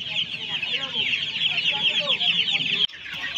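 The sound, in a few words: chickens clucking at a hen market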